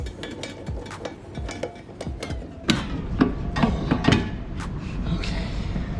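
A ratchet wrench turns a camber bolt on a Nissan 240SX front spindle during a coilover install and five-lug swap, giving close, irregular metallic clicks and clanks that build into a busier burst of knocks partway through, with no talking.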